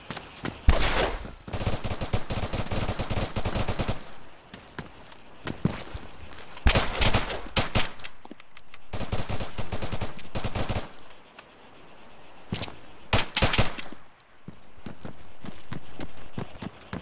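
Pistol gunfire in the Arma 3 military shooter game, heard as several separate bursts of sharp, loud shots spread across the stretch, with quieter ambient sound between them and no talking.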